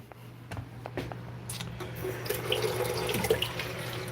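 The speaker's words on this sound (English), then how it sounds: "Here, I'm just getting a little bit of water there," Water runs steadily from a tap into a container for watering plants, a continuous splashing flow that grows a bit fuller partway through, close by and with no talking.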